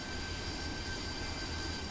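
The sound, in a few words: AV-8B Harrier jet engine during takeoff, from a video game (MSFS)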